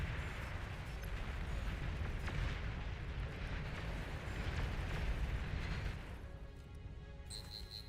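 Enemy commander unit blowing up in the strategy game Beyond All Reason, a long rumbling explosion with crackling debris that rolls on for about six seconds before fading to lighter ambient game sounds and a few soft tones.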